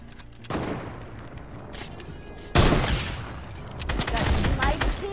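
Sniper fire in a video game: sharp gunshots and crackling bursts over continuous game noise, with a loud blast about halfway through and a dense stretch of firing near the end.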